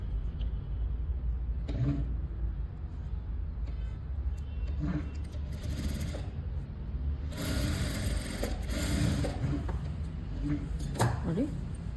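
A sewing machine runs in bursts while stitching the front border of a blouse, its motor whirring over a steady low hum, with someone talking in between.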